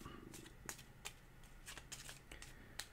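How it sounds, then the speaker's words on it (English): A deck of game cards is shuffled by hand up close, with a series of quick, crisp riffling bursts in an irregular rhythm against a quiet room. "we need to shuffle this deck."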